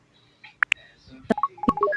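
Telephone keypad DTMF dialing tones on a mobile phone, several short distinct beeps of different pitches pressed in quick succession, fairly close and clear, with a couple of sharper clicks early on.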